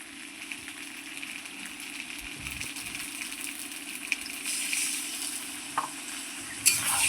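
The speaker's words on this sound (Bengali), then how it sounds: "দেখুন মশলাটা আমি কত সুন্দর আলুর সঙ্গে কষিয়ে নিচ্ছি, কত সুন্দর আমার তেল ছাড়ছে দেখুন।" Spice paste and potatoes stir-fried in oil, sizzling steadily close up with scraping stirs, the frying growing a little louder toward the end; no talking.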